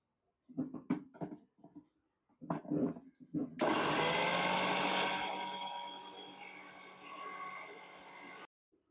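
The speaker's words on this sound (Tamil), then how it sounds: "ஃபர்ஸ்ட் இதை வந்து நல்லா நான் பவுடர் மாதிரி அரைச்சி எடுத்துட்டு வந்துடுறேன்" Mixer grinder jar grinding oats into powder, a loud steady whirring roar of about five seconds that starts abruptly after a few seconds of speech and then fades slightly before cutting off.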